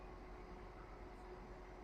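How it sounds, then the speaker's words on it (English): A low, steady rumble with a faint droning hum from a freight train rolling by at a distance in France, quiet and unbroken. "There's a freight train coming."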